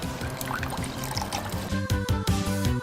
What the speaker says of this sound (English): A few tablespoons, and in goes our broth.